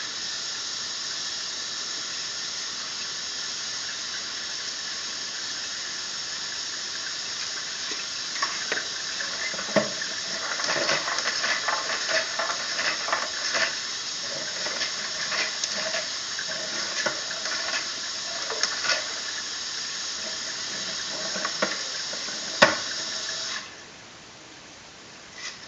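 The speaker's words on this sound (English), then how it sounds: "We're going to turn on a little bit of water, get the lens cleaned off." Water runs steadily from a spray nozzle rinsing a camera lens, a broad continuous hiss with scattered splashes and spatters over the middle stretch, fairly close, cutting off abruptly near the end.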